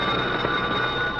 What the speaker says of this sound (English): when the phone started ringing